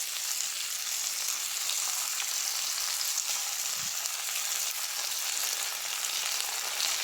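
Oyster sauce hits a hot pan of fried rice with dried anchovies, giving a loud, steady, close sizzle that continues unbroken, with a single soft bump partway through and no talking.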